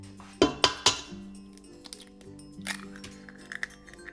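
Eggs being cracked and added one at a time to chocolate chip cookie batter: a few sharp clinks and taps of shell against a bowl early on, followed by quieter scattered knocks and clatter, close and without talking.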